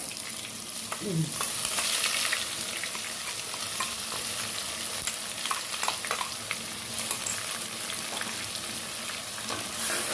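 Crushed dried chilli and onion fry with curry leaves in a hot pan, producing a constant close sizzle with scattered scraping stirs of a spoon and no voices.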